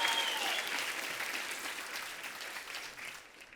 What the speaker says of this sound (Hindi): प्लीज जोरदार तालियां सर के लिए